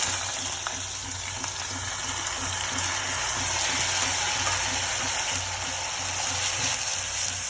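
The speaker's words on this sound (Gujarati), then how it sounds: "પછી દૂધી નાખી દઈએ." Chopped bottle gourd is dropped into hot oil tempered with mustard seeds, cumin and asafoetida, producing a steady, moderately loud sizzle and frying hiss throughout, with no talking.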